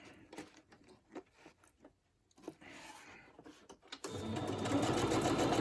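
A domestic sewing machine runs stitches across fabric during a craft project, starting with scattered clicks and short bursts, then settling into a loud, continuous whirring run in the final stretch, close up with no speech.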